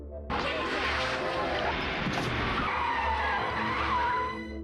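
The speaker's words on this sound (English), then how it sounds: "unable to control the car, ends up veering off the road" A car skids as it veers off the road, a loud, sustained tire screech that starts abruptly and holds for several seconds over low engine rumble before easing off.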